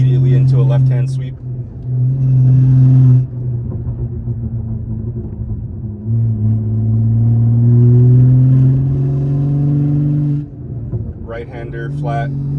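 A BMW G30 540i with a 530 hp engine downshifts from fifth to fourth while climbing into a right-hand bend on a mountain road, its deep engine drone rising and falling steadily, with someone talking over it.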